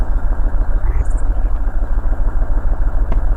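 An off-road vehicle's engine climbs in four-wheel drive after a winch fails to pull it free, giving a steady, loud, rough mid-pitched drone with clattering texture throughout.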